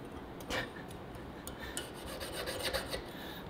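A saw blade rasping against a stainless steel sheet, scattered scraping strokes of uneven rhythm over a noisy background, close but fairly faint.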